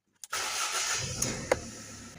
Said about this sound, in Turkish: Şimdi aracımızı çalıştıracağız.